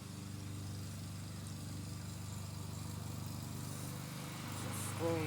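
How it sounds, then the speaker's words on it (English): A Honda lawnmower engine runs at a steady idle, giving a faint, low, even drone that continues unbroken throughout. "He's got a Honda lawnmower, I got a Honda lawnmower."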